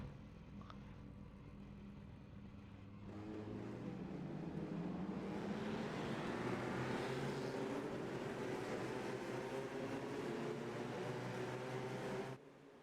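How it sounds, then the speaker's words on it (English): Race car engines rev before the start of the American Grand Prix, a low drone that swells into a rising, sustained engine whine, loud and continuous. "With the engines start revving up, we're getting ready to go."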